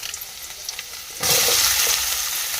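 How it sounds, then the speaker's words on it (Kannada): Chopped onions hit a pan with ginger and garlic, and a quiet kitchen suddenly gives way to a loud, steady frying sizzle that holds to the end. "ಚಲೋ ಫ್ರೈ ಆಗಲಿ ಈಗ ಈಗ ನೋಡಿರಿ ಉಳ್ಳಾಗಡ್ಡಿ ಚಲೋ ಫ್ರೈ ಹಾಕತ್ತು"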